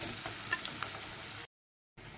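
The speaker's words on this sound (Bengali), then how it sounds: "এখানে পেঁয়াজটা একটু ভেজে নেবো লাল লাল করে।" Onions fry in hot oil for a mutton dish, a steady close crackling hiss that drops into silence for about half a second before the sizzle resumes.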